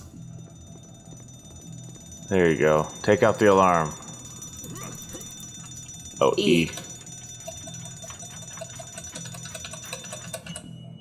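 In a video game, an alarm clock rings as a steady high electronic tone with faint ticking beneath. A man briefly exclaims over it twice.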